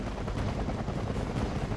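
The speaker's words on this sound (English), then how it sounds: "This hind is shooting at the annoying Cobra." A Hind helicopter fires on a Cobra in the video game WarGame AirLand Battle, heard as dense continuous rattling gunfire over a low, heavy rumble, loud and unbroken, with no speech.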